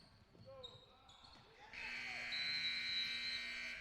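A loud, sustained electronic buzzer ending the first half of a basketball game, sounding at full strength for about two seconds, preceded by ball bounces and crowd noise, with commentary talk underneath.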